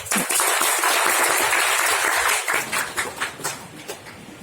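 A crowd at a creators meetup in Jogja claps to welcome a speaker: dense, loud applause for about two and a half seconds, then thinning into scattered individual claps that fade out.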